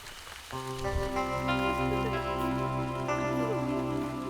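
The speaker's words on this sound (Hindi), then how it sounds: "बारिश भी तेज हो रही है, लगता ही नहीं कि रुकेगी" Heavy rain pours steadily through a dramatic scene in a Hindi-dubbed South Indian action thriller, a continuous wash of rainfall under a droning, swelling music score, with no talking.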